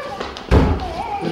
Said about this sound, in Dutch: De deur komt dicht.